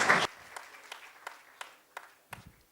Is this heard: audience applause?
yes